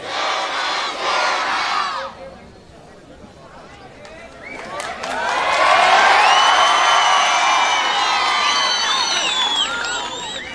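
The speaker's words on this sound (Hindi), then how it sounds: "जोरदार नारे के साथ में उनका इस्तकबाल कीजिए।" A large crowd at a public rally shouts slogans in unison to welcome a speaker, loud and close: a burst of chanting, a brief lull, then a swelling roar of many voices that stays strong to the end.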